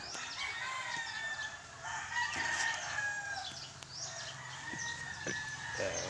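A fighting cock at a backyard poultry farm crows repeatedly, its shrill calls mixed with clucks and other fowl close by and no talking.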